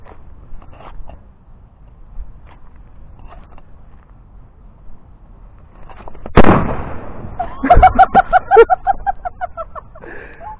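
Quicklime reacting with water bursts with a single loud, gunshot-like bang after a quiet stretch, followed by a rapid series of crackling pops and sputters.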